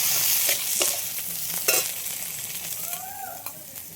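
Black pepper, cumin and tomato frying in a pan are stirred briskly, a loud sizzle broken by several scraping strokes of the spoon, with no talk heard.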